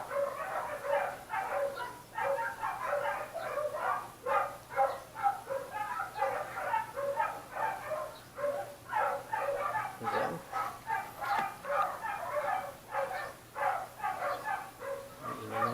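Several dogs bark repeatedly in a steady, overlapping chorus, moderately close, with a few yips mixed in and a faint hum underneath.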